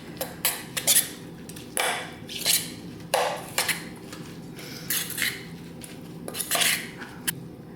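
A fork or spoon mixes food in a bowl during iftar dinner preparation, a string of close, irregular clinks and scrapes against the dish with short pauses between strokes and no talk.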